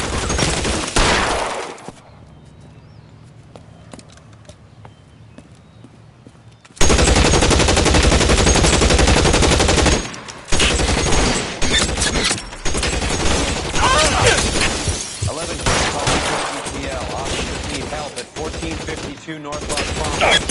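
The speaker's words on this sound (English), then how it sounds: "Shots fired and officers need help at 1452 North Las Palmas." Gunfire in the video game L.A. Noire: loud bursts of shooting with rapid, machine-gun-like volleys, separated by a quiet lull and brief pauses, mixed with other game sounds.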